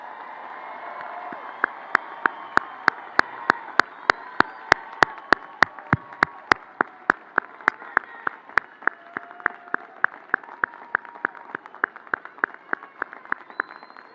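A commencement audience applauds the graduates: a steady wash of crowd clapping runs throughout, with loud, evenly spaced claps cutting through on a regular beat, as if part of the crowd claps in unison.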